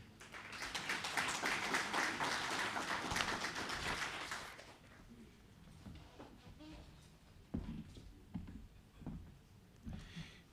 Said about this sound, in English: give Mr. Monso a big round of applause